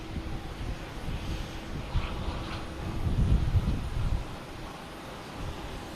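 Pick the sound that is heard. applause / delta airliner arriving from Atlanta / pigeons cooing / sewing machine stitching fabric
delta airliner arriving from Atlanta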